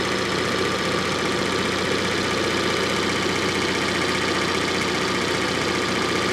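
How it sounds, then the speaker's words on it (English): A Panda 4x4 car engine idles steadily and close by, a constant rumbling drone with even mechanical texture and no pauses. "That, boys and girls, is a running engine"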